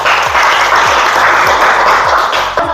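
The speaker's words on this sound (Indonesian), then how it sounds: "Oke, tepuk tangan." A room of people claps together in loud, dense applause that lasts a few seconds, close and busy, with a faint low voice underneath.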